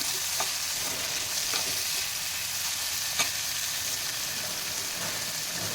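Tomatoes frying in oil in a pan for godhumai rava kichadi, a steady close sizzle and crackle with a few sharp pops and light stirring scrapes, no voices.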